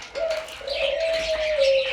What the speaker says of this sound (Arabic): ده اليمام البلدي